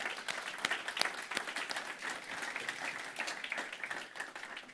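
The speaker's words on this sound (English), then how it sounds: "please just give another round of applause for the worship team." A church congregation applauds the worship team, a dense, even wash of many hands clapping at moderate distance, with no talking.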